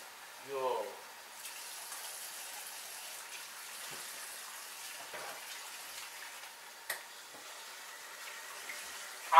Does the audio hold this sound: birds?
no